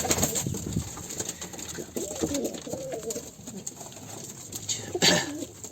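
Pigeon cooing in a coop, soft low repeated coos with faint rustling, moderately close, no talk over it.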